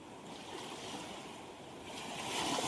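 Sea waves washing over bare feet on a sandy beach at high tide: a steady, soft surf wash that swells slightly louder toward the end, with no speech.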